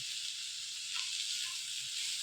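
Onions sautéing in a pan for a kurma over a low simmer give off a steady, soft, even sizzle that runs unbroken with no voices.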